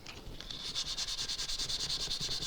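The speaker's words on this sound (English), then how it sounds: "So I'm probably sanding a lot more than I need to, but better to be safe than sorry." Quarter-sawn wood on a PRS-style guitar body being hand-sanded, a quiet, regular back-and-forth rasp with evenly spaced strokes of about four per second, close and alone.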